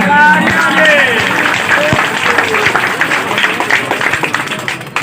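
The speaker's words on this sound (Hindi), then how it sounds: "भरपूर तालियां।" Audience clapping at an outdoor prize-giving show in Pothwar, Pakistan, a loud sustained burst of many hands that gradually thins, with a host's voice and crowd chatter mixed in.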